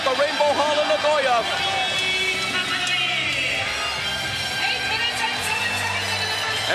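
Arena crowd noise at the Rainbow Hall in Nagoya during a Pride FC Bushido mixed martial arts event, a steady roar of cheering and shouts that swells loudly at the start and stays dense throughout, with commentary-like voices mixed in.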